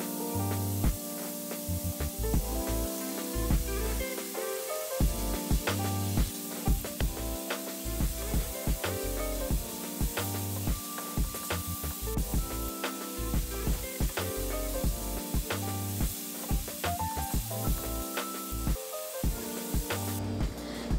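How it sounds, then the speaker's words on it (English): Kale and minced garlic sautéing in a hot pan, a steady hissing sizzle with crackling spatter running continuously and close, no talking over it. "we're going to put in our kale and our minced garlic so we can saute and flavor it"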